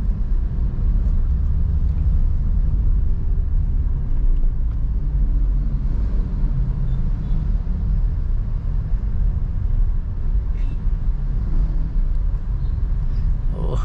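Steady low engine and road rumble inside a Suzuki Ertiga as it is driven, a constant muffled drone with no talk.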